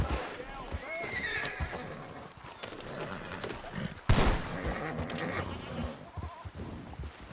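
Horses in the Red Dead Redemption 2 video game whinny and neigh amid a busy game soundscape, with hooves clopping, a sharp loud burst midway, and a voice talking over it.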